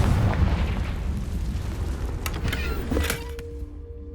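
A Confringo spell explosion in the Hogwarts Legacy video game, a rumbling fiery burst with crackling, followed by sharp pops and a fading tail, heard alone without speech.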